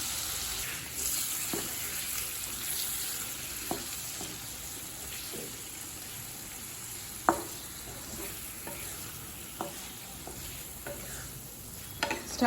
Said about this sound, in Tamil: ஸ்டவ்வை ஸ்லோலே வச்சு ஒரு 2 நிமிஷம் வரைக்கும் நல்லா வதக்கிக்கோங்க